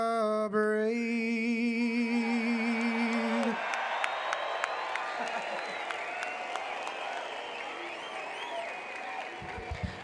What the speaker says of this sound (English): A very enthusiastic crowd here at the Nashville Fairgrounds